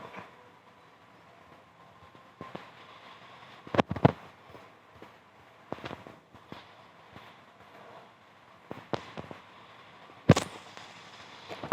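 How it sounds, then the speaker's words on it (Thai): Rockets fire in an offline shooting video game as several sharp bangs scattered irregularly over a quiet background, the loudest burst coming near the end. "ไปยิงจรวด"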